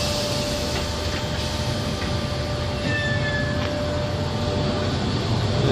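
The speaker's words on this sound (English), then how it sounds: "So the Liverpool Central service has departed." A Merseyrail train for Liverpool Central pulls away, giving a steady, loud rumble and hum with faint high squeals and whines from the wheels and motors and no break.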